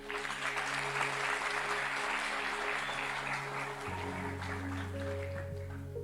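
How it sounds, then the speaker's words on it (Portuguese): A church audience applauds a speaker, continuous clapping throughout with sustained keyboard tones beneath that shift partway through. "dê uma salva de palmas para ele, gente"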